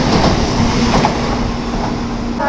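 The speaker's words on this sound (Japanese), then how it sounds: "ただいま13番線に到着したのは14時6分着、14時7分にこの京都駅を出発する広島駅ののぞみ89号です。" An N700-series Shinkansen Nozomi 89 bound for Hiroshima rolls along platform 13 at Kyoto Station, producing a loud, steady rushing rumble with a faint sustained tonal hum throughout.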